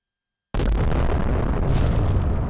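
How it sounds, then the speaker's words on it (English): An explosion sound effect erupts suddenly after a moment of silence, a loud, close blast that rolls on into a sustained roaring rumble with no talking. "Hopefully that was a nuclear explosion"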